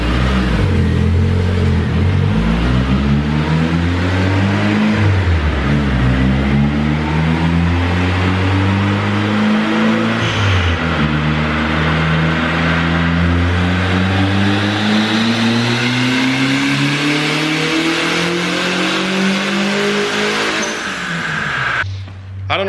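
A turbocharged single-cam Honda D-series car running on E85 accelerates hard through repeated gear pulls, the engine note climbing and dropping between shifts, loud and close from outside, then easing off at the end.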